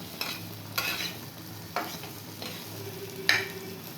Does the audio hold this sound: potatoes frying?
yes